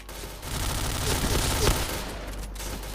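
Rapid gunfire bursts from the online shooter game PointBlank, a near continuous dense rattle of shots sustained across the clip with a brief voice underneath.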